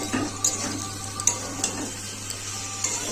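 Ginger-garlic paste with salt and turmeric fried and stirred in a pan for a prawn and taro dal dish, a low steady sizzle broken by several sharp spatula clinks and scrapes.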